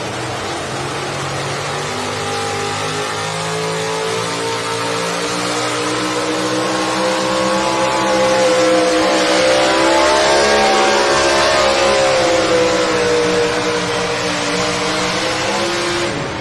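A modified four-wheel-drive truck engine roars and revs steadily for the whole stretch at a truck pull, pitch rising and falling slightly, with a rough, throaty rumble and no talking.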